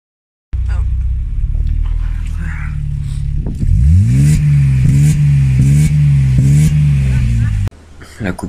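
A BMW E30 engine with a programmable ignition-cut rev limiter revs loudly, rising then bouncing off the limiter in a series of sharp, choppy stutters before dropping away; a voice speaks briefly under it.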